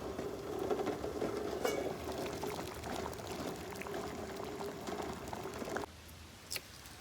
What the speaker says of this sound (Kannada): ಒಂದು ಸೈಡಿಗೆ ಮೊಟ್ಟೆ ಕುದೀತಾ ಇದೆ ನೋಡಿ.